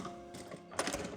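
A sewing machine runs briefly while top stitching a ruffle on a patchwork bag, a soft, fast mechanical whir with stitch ticks, quiet and close, lasting about a second.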